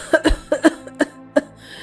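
A person coughs in a rapid series of harsh, close bursts, about six in quick succession with short pauses.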